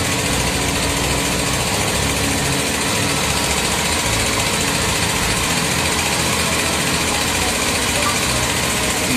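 A motorcycle engine idles steadily and close by, a constant droning rumble with no change in pace, controlled by a wifi remote alarm.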